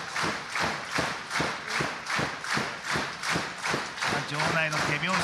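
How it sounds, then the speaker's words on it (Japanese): Arena crowd at a Hana Kimura memorial wrestling match claps in a steady, even rhythm, about two claps per second, loud and continuous throughout, with a commentator talking over it. "場内の手拍子"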